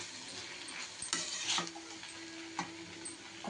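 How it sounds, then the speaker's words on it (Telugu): Onions fry in hot oil in a pan beside bitter gourd, giving a soft steady sizzle broken by a few scraping stirs of a spoon against the pan, heard close with no talk. "ఆనియన్స్ గోల్డెన్ కలర్ వచ్చేంత వరకు వేయించుకోవాలి."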